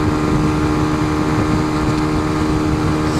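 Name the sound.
motorcycle engine running at speed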